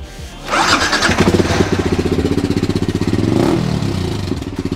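A Yamaha R15 M motorcycle fitted with a dB killer in its exhaust starts up and settles into a loud, close, rhythmic idle with a brief rev partway through.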